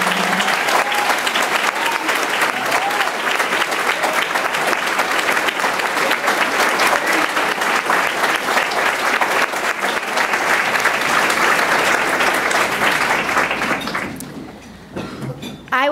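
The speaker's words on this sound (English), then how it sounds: "clapping for the people that just stood to recognize the principals in Chicago's district and charter public schools" An audience at a Chicago school leadership event claps loudly and steadily for principals who have stood up, a dense, sustained ovation that fades out near the end.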